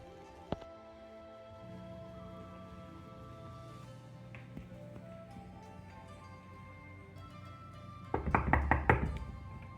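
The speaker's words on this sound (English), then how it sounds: "I shouldn't have to knock." A rapid cluster of knocks, several firm raps close together, sounds near the end after a long stretch of low, steady background hum.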